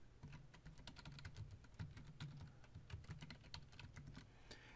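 Quick, even keystrokes on a computer keyboard as a password is entered, a close, quiet run of soft clicks with no voices.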